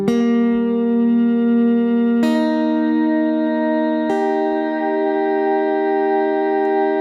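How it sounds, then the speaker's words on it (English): Electric guitar notes held by a Gamechanger Audio Plus sustain pedal in group mode, three plucked notes added one after another, each layering onto a sustained ringing chord that hangs on steadily and clearly. "play another note, and you'll hear the way it's now captured both of those notes"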